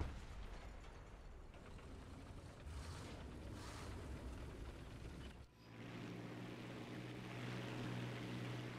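A small 1.0-tier biplane's propeller engine drones steadily in War Thunder, a faint, distant hum that dips briefly midway, then carries on with a low steady tone.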